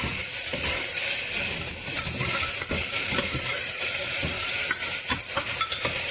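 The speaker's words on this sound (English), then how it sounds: "Let it fry for 2 to 3 minutes" Minced mutton with ginger garlic paste sizzles loudly and steadily in a pan for Parsi kheema patties, with scraping stirring clicks throughout and no talking.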